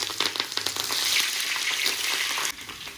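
Slit green chillies and seasoning seeds crackle and sizzle loudly in a little hot oil while rice is being cooked. The spattering stays dense and steady at close range, then softens a little near the end.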